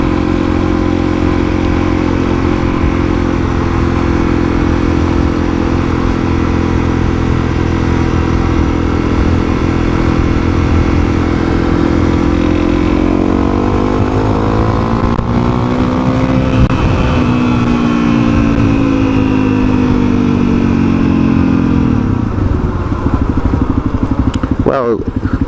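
A Honda CRF 250L motorcycle engine drones loudly and steadily up close while riding, its pitch rising as it accelerates and shifts partway through, with wind noise throughout.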